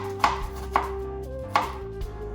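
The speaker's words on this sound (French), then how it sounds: "tu vas hacher ton oignon comme ça" A knife chops an onion on a cutting board, giving three sharp, close thuds at an uneven pace, with a faint background hum and no talk.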